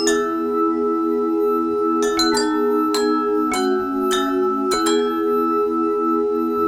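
A simple melody rings out on drinking glasses, with clear sustained chiming tones and several bright struck notes, played alone without voices.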